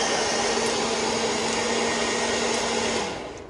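A blow dryer runs steadily on hair during a kinky blowout styling, a loud continuous whooshing hum with a faint tonal whine that holds for about three seconds and then begins to fade.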